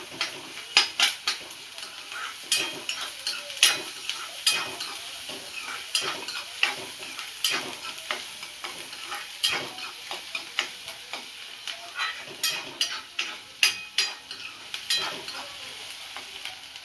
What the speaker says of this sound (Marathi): आता ह्याला आपल्याला छान असं परतून घ्यायचं. गोल्डन ब्राऊन होईपर्यंत आपल्याला छान कांदा परतून घ्यायचा आहे.